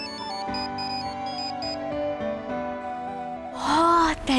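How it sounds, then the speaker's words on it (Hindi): A melodic electronic ringtone plays a repeating tune, then a voice cuts in loudly near the end. "अरे सैम का फोन आ गया"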